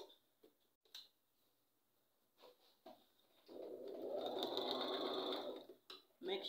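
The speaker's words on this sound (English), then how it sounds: "I have my machine here. All I want to do is to sew the 5 inches down and the other 5 inches as well." Home sewing machine stitching a seam on a reversible bonnet, a few scattered clicks and handling taps before a sustained close whirring run of stitching for about two seconds, then stopping.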